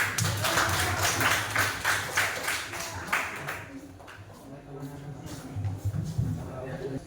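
Students in a classroom clap together in a steady burst that fades after about three seconds, followed by quieter shuffling and a short second round of clapping, with speech mixed in.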